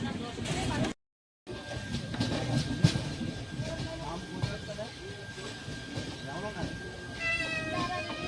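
Train pulling into Rajahmundry station in India, heard as a steady rolling rumble with faint clatter, a brief dropout, and a thin high tone near the end, with voices mixed in.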